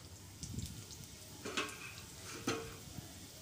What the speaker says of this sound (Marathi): आता आपण तुरीच्या डाळीला फोडणी देऊया